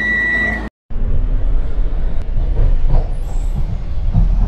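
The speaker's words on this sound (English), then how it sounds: "This tram is ready to depart." A tram pulls away from a station, heard from on board as a loud, steady low rumble of wheels and motor that begins after a brief cut to silence.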